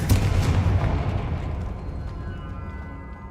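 A Confringo blasting spell goes off in Hogwarts Legacy with a loud booming explosion up front, then a long rumbling tail that gradually fades.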